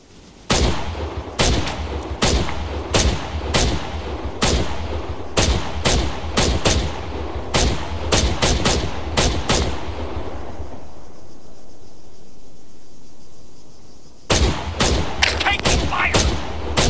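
Loud, close gunfire in the military video game Arma 3, sharp single shots and rapid bursts cracking repeatedly, a pause of quieter ambience, then a final flurry of shots.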